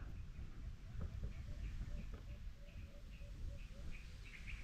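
Small birds chirp in a steady run of short tweets at moderate distance outdoors near a mango tree being moved, over a constant low rumble of wind or machinery.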